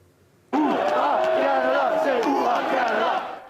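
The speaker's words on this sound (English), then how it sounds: "the cheering started when they got off the bus, and it didn't stop all day" A large crowd roars and cheers for Team Canada on a frigid day at a World Cup qualifier. The roar bursts in suddenly, loud and close, and holds steady with shouts rising through it until it eases at the end.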